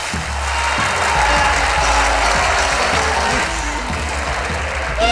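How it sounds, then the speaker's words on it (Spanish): Loud, steady applause from a crowd fills the whole stretch, dense clapping without pause, with a low hum underneath. "un fuerte aplauso"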